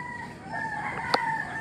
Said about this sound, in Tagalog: Kung may mga narinig po kayong manok